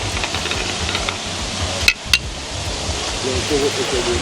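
Pumpkin dumpling soup simmers in a pot with a steady, even bubbling hiss, broken by a couple of sharp clicks from a utensil, and a voice is briefly audible.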